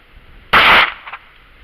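A single sharp report from a Ruger LCP II pistol, loud and close, with a short tail and a faint echo just after, on its own.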